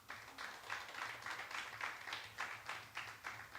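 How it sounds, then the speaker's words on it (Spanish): A church congregation claps in praise during a pastor's sermon, a faint, rhythmic burst of applause with regular pulses, heard alone and somewhat distant. "Denle un aplauso fuerte al Señor."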